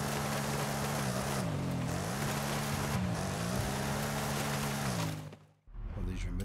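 A car engine in Forza Horizon 5 hums and shifts pitch as it revs up and down, a steady loud drone that briefly cuts out near the end before resuming, with a voice talking over it.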